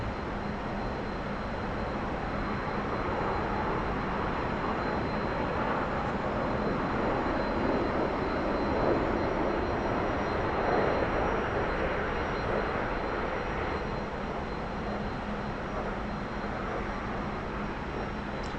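A T-45 jet trainer engine runs at full throttle in the DCS flight simulator, a loud steady roar and hiss that holds for the whole stretch without a break, with no talking.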